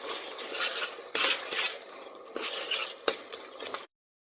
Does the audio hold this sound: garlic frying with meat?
yes